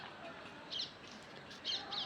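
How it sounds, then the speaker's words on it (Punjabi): A few brief, high chirps from birds returning home at dusk, over soft outdoor ambience, in two short bursts. "ਪੰਛੀ ਘਰਾਂ ਨੂੰ ਮੜਨ ਲੱਗ ਗਏ"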